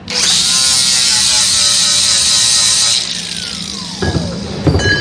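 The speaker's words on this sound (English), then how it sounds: "and then grind it down" A grinder works down a MIG weld on metal with a loud, steady high-pitched whine for about three seconds, then winds down with a falling pitch before a few scraping contacts, close and harsh.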